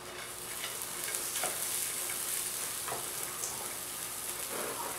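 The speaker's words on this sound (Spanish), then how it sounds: "Aquí tengo un sartén grande, como no tengo otro comal. Aquí voy a asar las otras semillitas nada más que son con sal." Salted squash seeds roast over low heat in a large skillet, a soft even sizzle with occasional light rattling and stirring strokes, steady and fairly quiet throughout.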